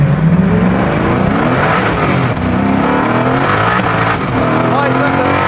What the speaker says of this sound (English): Lights up the tyres.